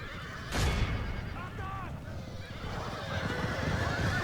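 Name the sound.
horses neighing in battle, Medieval 2 Total War video game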